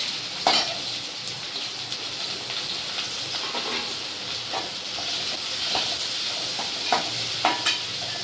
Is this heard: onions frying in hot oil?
yes